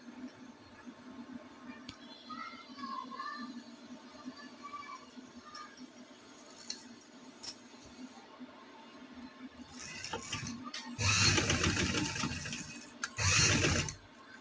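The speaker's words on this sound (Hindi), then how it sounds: "कट के बराबर हम इसे सिलाई लगाएंगे, थोड़ा सा पक्का करेंगे।" A sewing machine stitches a zigzag lace neck design, two loud whirring bursts of stitching near the end after a quieter stretch with faint background noise.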